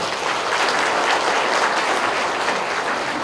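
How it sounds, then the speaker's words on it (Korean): Applause from the audience at a Buddhist book launch gathering, a dense, even wash of many hands clapping steadily throughout, with no voices over it. "우리 큰 박수를 부탁합니다"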